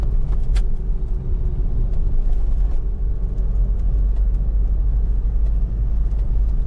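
A Mahindra Scorpio cruising in fourth gear through traffic, its engine giving a loud, steady, close low rumble with road noise throughout.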